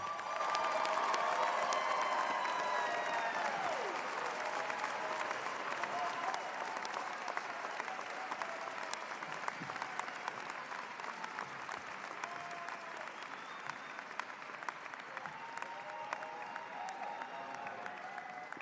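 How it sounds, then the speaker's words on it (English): A large crowd at an undergraduate graduation ceremony gives the class a long, loud round of applause that gradually thins, with scattered louder individual claps. "And one more round of applause for the class of 2023"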